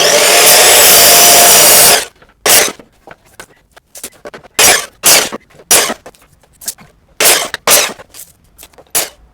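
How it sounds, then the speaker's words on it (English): A saw cuts wooden blocks to 40 cm lengths for an anvil stand. It opens with two seconds of loud, steady cutting, then continues in a series of short, sharp rasping strokes close by. "let's get the old saw out and let's get these cut to the right length"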